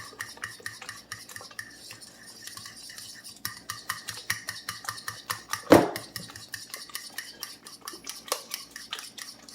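Bananas and eggs being stirred in a bowl for blueberry banana cups, with a steady run of spoon scrapes and clinks against the bowl, one sharper knock partway through, close and fairly loud with no talking.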